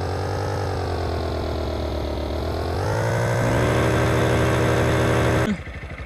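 A Honda Start 160 motorcycle engine while riding, humming steadily close by, then rising in pitch as the throttle opens and holding a stronger drone before cutting off abruptly near the end.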